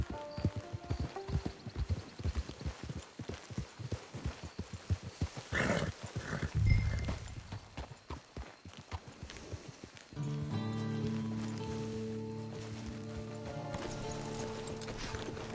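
Horse hooves in the western video game Red Dead Online, a rapid rhythmic clip-clop of galloping that slows to a halt with a snort, followed by steady ambient game music.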